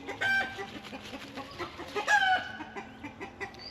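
Chickens cluck in short, uneven bursts close by, with one brief rising call standing out midway.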